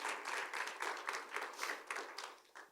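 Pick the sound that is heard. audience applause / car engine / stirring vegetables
audience applause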